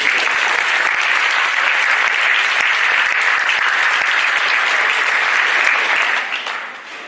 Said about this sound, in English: let's give all parents and family a round of applause for this.